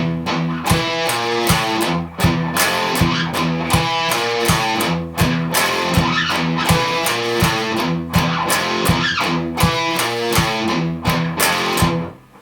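Distorted electric guitar plays the third phrase of a riff, a loud chugging pattern of palm-muted notes and power chords repeated steadily without a break, alone with no voices.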